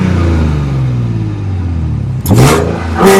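A Porsche Panamera S hybrid idles with a steady low exhaust rumble, then gives two sharp throttle blips that flare up loudly, heard close to the exhaust.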